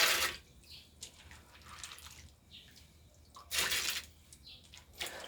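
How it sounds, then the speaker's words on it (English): Beans being rinsed in water in a pot, with faint sloshing and trickling, splashy bursts of pouring water at the start and again midway, quiet and close. "So that's the main reason of rinsing the beans."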